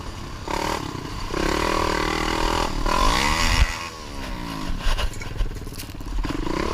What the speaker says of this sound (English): uploaded a GoPro video of himself riding his ATV on an unnamed trail